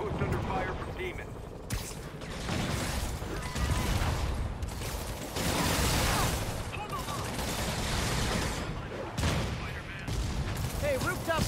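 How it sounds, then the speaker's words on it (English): Rapid gunfire at a rooftop outpost in the game Marvel's Spider-Man, dense bursts and booms that come and go over nearly the whole stretch, with voices talking through the fighting. "Control, rooftop outpost under fire from demons."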